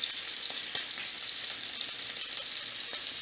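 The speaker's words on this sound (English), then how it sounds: "that's the grease when it's splattered" Marinated steak frying in a pan, a steady bright sizzle with small grease pops and splatters throughout, no talking.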